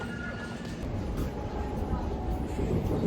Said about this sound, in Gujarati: આપણી ટ્રેન આવી ગઈ છે હવે